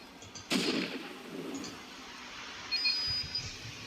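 An explosion goes off aboard a burning oil tanker in the game Stormworks, a sudden loud boom followed by a rumbling decay and some faint beeps and a later thud, with no speech.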